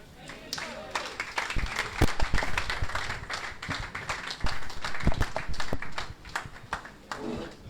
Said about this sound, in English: is that how you're going to clap for Dr. Fred?